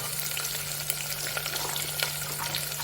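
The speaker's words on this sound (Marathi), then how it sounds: "आता यामध्ये आपण घालू श्रावण गेवडा आणि गाजर" Green beans and carrots fry in a pan with chillies over low heat, giving a steady, close sizzle with small crackles and the scrape of stirring throughout.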